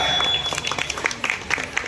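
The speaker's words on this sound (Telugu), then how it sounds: "మీ చప్పట్లతోటి ఆశీస్సులు ఇచ్చండి" A crowd at a Ganesh Chaturthi Kuchipudi dance performance applauds in a dense spatter of clapping, brief and moderately loud.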